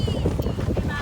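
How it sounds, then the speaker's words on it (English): Strong wind gusts buffet an 18 by 18 teepee tent, a steady broadband roar with flapping fabric swells, close to the microphone and fairly loud throughout. "winds are pretty high."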